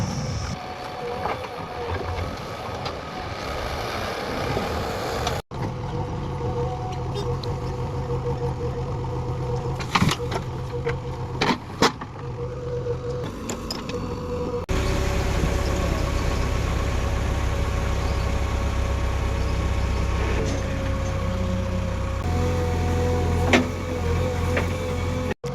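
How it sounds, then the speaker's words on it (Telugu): A tractor engine runs while soil is dumped for a ramp, giving a continuous low mechanical drone. Its pitch and loudness shift in stages, and brief clunks and rattles break through before the drone settles into a heavier, louder idle. "ట్రాక్టర్ అయితే వచ్చేసింది. ఇప్పుడు మట్టి అయితే వేస్తుండా."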